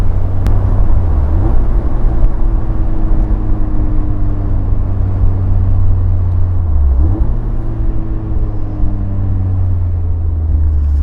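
A supercharged Mazda MX5 drives along a mountain road with a loud steady engine drone. Engine pitch dips and climbs again twice, once early and once around the middle, as the car downshifts and pulls away.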